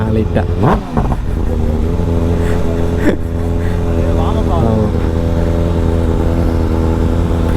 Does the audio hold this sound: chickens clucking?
no